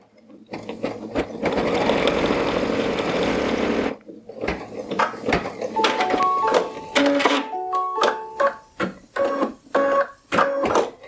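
Sewing machine stitching an appliqué placement line: a steady, close whirring run of about four seconds, then a choppier stretch of short stitching bursts and mechanical clicks and beeps.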